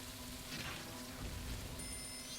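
Steady rain patters down across a scene in the video game The Legend of Zelda: Majora's Mask, forming a soft, continuous hiss with no talk over it.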